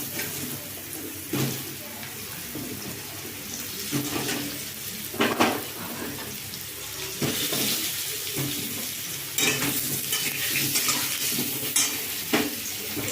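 Potatoes frying in hot oil tempered with nigella seeds, fenugreek, radhuni, a bay leaf and a dried red chilli for a ruhi fish curry with luffa, sizzling steadily with occasional stirring and spoon scrapes against the pan.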